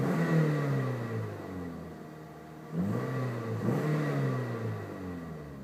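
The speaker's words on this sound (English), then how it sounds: "that sounds like an exhaust to me" 2004 Scion xB with manual transmission revving through its exhaust, two or three rising and falling engine sweeps at mid distance, each climbing then dropping back to a steady idle.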